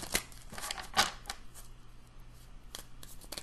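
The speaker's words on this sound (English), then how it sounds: "one more split of this deck, and then we'll shuffle it a bit more" A tarot card deck being split and shuffled, with a few crisp snapping riffles and soft card slaps heard up close and quiet against a faint background hum.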